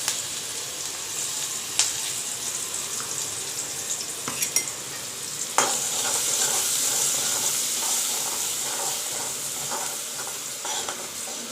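Curry leaves, asafoetida, turmeric and chopped onion fry in hot oil in a pan, giving a loud, steady, close sizzle with a few sharp utensil clinks along the way.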